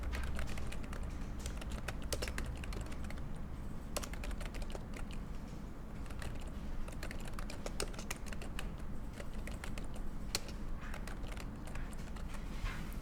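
Keys clatter in a rapid, uneven stream on a computer keyboard during AutoCAD text entry, close and fairly quiet, with occasional sharper single presses and no voices.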